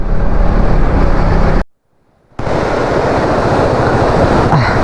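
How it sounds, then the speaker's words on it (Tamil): Water rushes at a small river crossing on a forest road toward Athirappilly in the monsoon, a loud, steady, close roar that cuts out briefly and then resumes, with no talking. "அதிரப்பள்ளி போகிற வழியில் ஒரு சின்ன ரிவர் கிராசிங் தான். அங்கேருந்து வர தண்ணி தாங்க"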